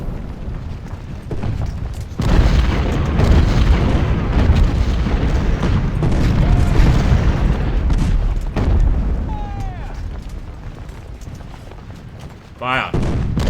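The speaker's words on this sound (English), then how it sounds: "let's just fire away here at Colts. Pelham's going to have to deal with these guys. I hope that they know how to use those cannons" Cannon artillery fire in the Ultimate General: Civil War strategy game: a loud, sustained roar of rumbling booms that swells suddenly and carries on for several seconds, then thins to scattered thuds and pops.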